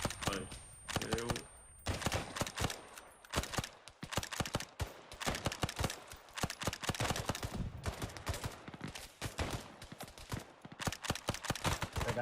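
Dense volleys of video game gunfire in a 1980s Afghanistan mujahideen combat scene, sharp repeated shots and bursts crowding the whole stretch with brief pauses, with players' voices mixed in.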